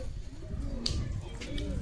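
Pigeons for sale cooing softly in low, rolling murmurs under someone talking nearby, with a brief bright chirp partway through.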